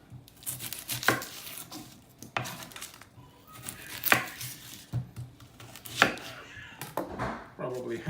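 Onion being chopped with a knife on a board while pasta water boils, a series of sharp distinct cuts spaced about a second apart, close and clear, with no talking.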